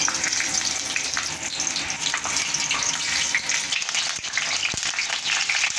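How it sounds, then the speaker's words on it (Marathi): Stuffed capsicum (shimla mirch) fries in hot oil in a pan with a steady, loud, dense sizzle, with a few faint knocks of a utensil and no voices. "आता तेल गरम झालं का त्यामध्ये आपल्याला या शिमला मिरची थोडे तळून घ्यायचे"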